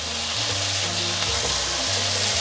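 Shiitake mushrooms, carrots and basil stir-frying in a pan over high heat make a constant close, hissing sizzle with faint scraping, over a soft tonal background.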